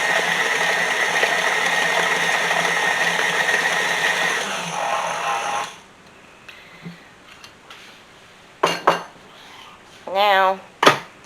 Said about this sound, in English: gonna blend this up on like 2 or 3 just to make sure it's good and